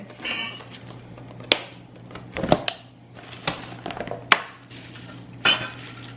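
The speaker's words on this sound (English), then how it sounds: "I'm mixing in this coleslaw mix." Coleslaw mix tossed in a big bowl, with sparse clinks and knocks of a utensil against the bowl over a soft rustle, close and intermittent, with no voices.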